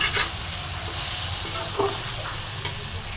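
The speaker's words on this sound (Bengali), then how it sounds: "খুব সুন্দর করে মশলার সাথে সবজিগুলোকে আমি একটু নেড়ে নেব।" Vegetables with spices being stirred in a hot cooking pan for a fish curry with potato and papaya, a steady loud sizzle with a few soft scraping stirs over it.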